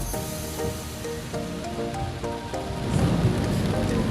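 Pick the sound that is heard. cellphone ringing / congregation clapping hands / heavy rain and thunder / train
heavy rain and thunder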